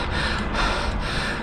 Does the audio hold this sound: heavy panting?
yes